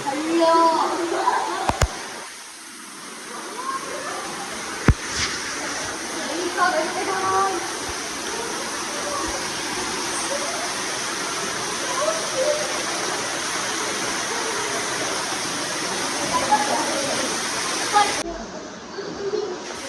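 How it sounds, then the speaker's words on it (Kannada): A steady, loud roar of a waterfall near Cherrapunji, Meghalaya fills the whole stretch, continuous and unbroken, with a couple of brief knocks and a voice faintly underneath. "ಜಲಪಾತದ ಸೌಂಡ್ ಕೂಡ ಕೇಳಿಸ್ತತೆ."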